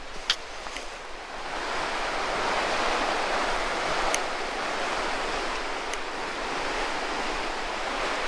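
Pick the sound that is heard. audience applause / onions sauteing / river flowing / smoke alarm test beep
river flowing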